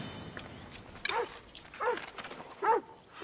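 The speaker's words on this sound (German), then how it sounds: "Oh, mach dich weg, du Hund." A dog in the video game Assassin's Creed Odyssey gives three short barks or yips spaced about a second apart, fairly clear over a quiet background.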